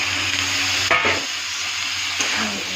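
Potato and eggplant pieces hit a hot oiled pan, giving a loud, steady sizzle with a brief scraping stir near the start and a softer clatter later.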